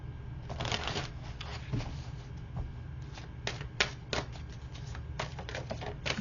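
Oracle cards being shuffled before a card is pulled in a spiritual reading, a run of crisp papery riffles and flicks close by with a few sharper snaps, no talking.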